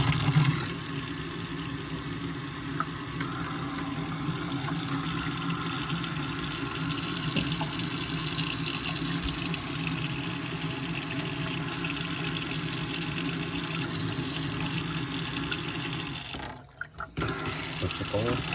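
Water runs steadily from a camper faucet during de-winterizing, a continuous near rush with a faint pump hum beneath, briefly cutting out and sputtering near the end as trapped air escapes.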